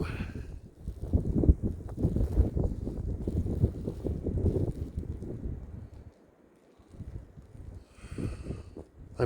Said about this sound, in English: It's awfully windy.